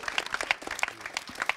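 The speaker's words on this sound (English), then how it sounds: "One more round of applause for Scott." A short burst of audience applause at a live comedy show, with scattered claps from a modest crowd heard at a moderate distance.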